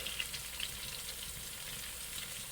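Curry powder and turmeric sautéing in a pan as the base for stewed coconut fish and shrimp, giving a soft, steady, even sizzle that stays faint and continuous with no voices.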